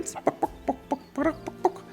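Chickens in a game's farm exhibit cluck in a quick, irregular series of short, close, fairly loud calls, with no talking over them.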